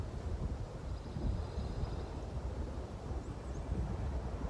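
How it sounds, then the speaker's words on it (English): Gusty wind from an incoming front blows across an outdoor bass-fishing spot, producing a continuous low rumbling buffet on the microphone with no voices. "Definitely got a front coming through. Wind blowing. Getting worse, coming out the northeast."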